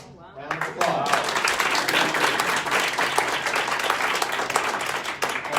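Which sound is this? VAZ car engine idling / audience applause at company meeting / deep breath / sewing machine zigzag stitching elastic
audience applause at company meeting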